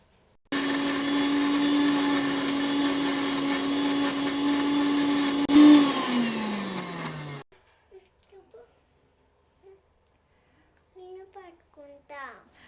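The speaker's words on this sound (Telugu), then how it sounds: "మిక్సీ జార్లో మనం టూ ఆనియన్స్ అండ్ ఫోర్ పచ్చిమిర్చి ఇది గ్రైండ్ చేసుకోవాలి" A kitchen mixer grinder whirs loudly for about seven seconds as it blends onions and green chillies, its pitch sagging before it shuts off, followed by a few quiet clicks and brief child-like voices.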